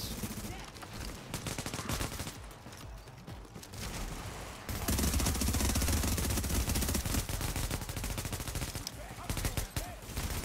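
Gunfire in The Division fills the scene as a dense, continuous barrage of overlapping shots, growing louder and heavier halfway through and staying intense to the end.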